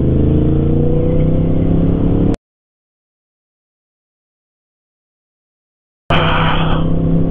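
A crossplane motorcycle engine revs loudly up close, cuts out abruptly into silence, then roars back for a short burst.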